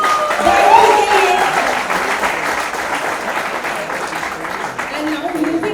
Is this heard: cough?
no